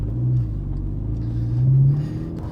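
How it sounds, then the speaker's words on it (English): Mk6 Golf GTI Edition 35 with an upgraded exhaust during normal driving, a steady low boomy drone from inside the car that swells slightly mid-clip, with no talk. "There's a bit of boominess there, but it's not in your face."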